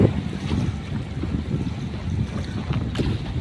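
A motorboat circles on the open water at Dolomite Beach in Manila Bay, its engine a steady low drone blended with wind and the wash of water, continuous and fairly close, with no voices.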